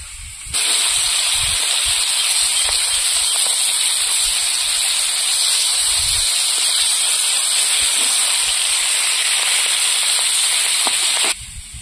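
River tengra fish fry in hot oil, giving a steady, loud hiss and sizzle that starts abruptly and runs evenly for about eleven seconds before cutting off.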